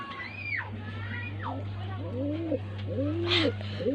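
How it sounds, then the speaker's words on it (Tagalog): Several pigeons coo in soft, rolling phrases close by, repeated calls layered over a steady low hum, with faint children's voices in the background. "ito po yung mga kalapati dito"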